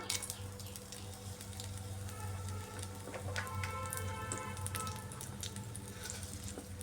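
Dry red chillies temper in hot mustard oil in a pan, with a faint, steady sizzle and scattered crackling pops running evenly throughout, with no talking.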